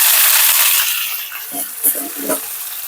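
Curry leaves and dried red chillies hitting hot oil for tomato chammanthi, a loud, close spluttering hiss that fades after a second, then a few sharp crackles and pops.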